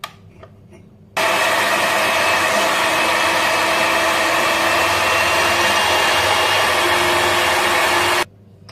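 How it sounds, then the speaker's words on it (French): An electric mixer whips egg whites for tiramisu, a loud, steady whirring drone that starts abruptly after a quiet moment and runs unbroken for about seven seconds before cutting off, close up with no talk. "Je vais fouetter les blancs."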